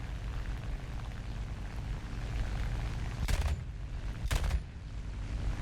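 Yak-9 fighter cannon and machine guns firing in War Thunder, two short sharp bursts standing out over a steady engine drone, with no talking.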